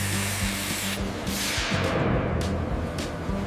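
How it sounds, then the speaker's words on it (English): An industrial planer shaves a rough wooden tabletop in a sawmill factory, a loud steady machine roar with rough, grinding texture running continuously throughout, with no speech. "Planing speed 30 to 50 feet per minute. Shavings fly everywhere."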